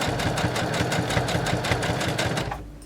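A sewing machine stitches a plain seam, backstitching a couple of stitches before running forward, giving a close, loud, rapid rhythmic chatter that stops abruptly at the end.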